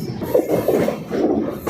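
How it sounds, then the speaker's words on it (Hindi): A Budhpurnima Express running on new LHB coaches rolls toward the Ganga bridge near Kashi station, giving a steady rumbling wheel noise with faint rhythmic clatter, close and continuous. "अब हमारी ट्रेन गंगा नदी में एंट्री ले रही है, गंगा नदी के ब्रिज पर।"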